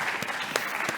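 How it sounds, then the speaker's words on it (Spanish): A conference audience claps to welcome the next speaker at a Passivhaus building conference in Portugal, with a brief, steady patter of applause marked by a few sharper individual claps. "peço uma salva de palmas também"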